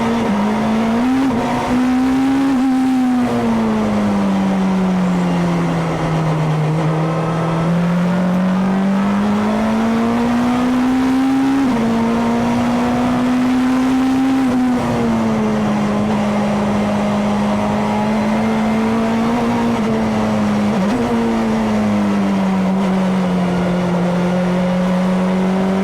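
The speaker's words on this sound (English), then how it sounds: "the 1996 Honda Accord Super Tourer." Onboard engine of a 1996 Honda Accord Super Touring race car, a loud, continuous high-revving drone that rises and falls through gear changes and corners for nearly half a minute, with faint tyre noise and no talking.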